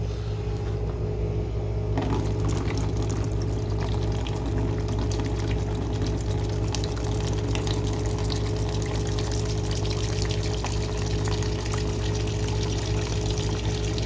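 Liquid pours steadily into a bucket for descaling a tankless water heater, a continuous loud rushing flow with a constant mechanical hum from a pump running throughout.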